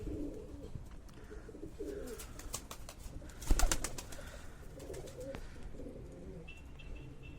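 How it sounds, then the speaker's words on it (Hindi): A 20-year-old pigeon coos softly in low, rolling murmurs, repeated several times, with a few sharp clicks and a brief thump in the middle. "ये इसके पैर देख लो, और ये कबूतर देख लो भाइयों।"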